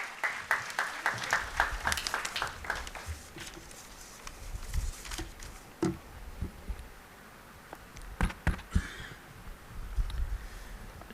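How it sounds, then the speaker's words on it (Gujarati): Audience applause welcoming a speaker at a book launch event, scattered claps gathering into a patchy round that thins out midway and rises again toward the end, with no talking. "તાળીઓના ગડગડાટ સાથે આપણે સાહેબને વધાવીએ"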